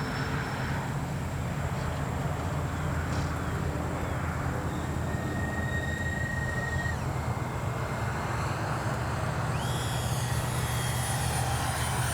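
A Freewing twin 70mm AL-37 RC jet flies past in the evening. Its ducted fans give a steady, loud whine that shifts pitch as it passes.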